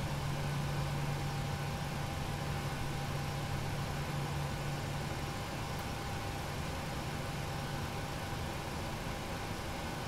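An airliner engine spools up during start in the FSX flight simulator, a steady, broadband whooshing roar with a low tonal whine that holds even and continuous, unbroken and without speech.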